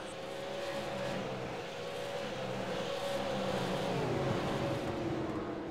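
Race car number 61, painted black and red, runs on the track at Southern National with a steady, loud engine roar that shifts pitch as it passes, heard on its own.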